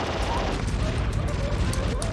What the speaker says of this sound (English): The gunfire doesn't hurt us.